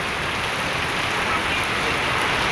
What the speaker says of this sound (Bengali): বৃষ্টি হচ্ছে সুন্দর।